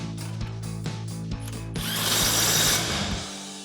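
A power driver tightens an 18mm nut on a rear shock bolt of a Ford F-150 during a lift block install, several short whirring bursts followed by a longer grinding run, close up with no talking.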